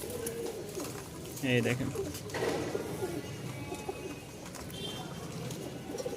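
Red and black tumbler pigeons coo in soft repeated throaty calls, close and clear, while someone talks over and between them.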